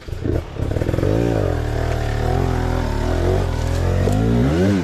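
Motorcycle engine running close by while the bike is maneuvered along the side of a path, a loud steady idle with rising and falling revs and some clatter, people talking nearby.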